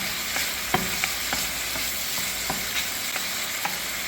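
Prawns sizzling and crackling steadily in butter in a hot pan, with a few sharp pops and scraping stirs along the way.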